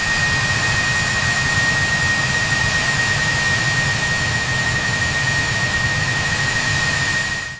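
An aircraft jet engine whines steadily during taxi, a continuous loud hum with a sharp high tone running on evenly before cutting off at the end.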